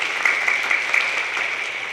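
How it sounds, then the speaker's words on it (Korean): Audience applause at a peace forum in Jeju, a steady, dense wash of clapping from a seated crowd filling the room, even and sustained without voices. "박수 한번 좀 하고요"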